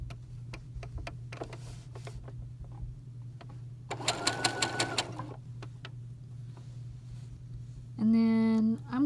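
Sewing machine stitching a seam on a newborn tee, a fast steady mechanical whir of needle strokes in a short run midway, with quiet ticking and handling before it and a tonal beep at the end.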